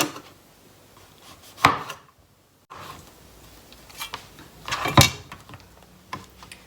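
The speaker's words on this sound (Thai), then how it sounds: "เราจะขอตัวหั่นไปให้มันเสร็จก่อน" Knife chopping pieces of birch on a board for drying, heard as two sharp, close cuts with a quiet pause between them and faint handling noise around them.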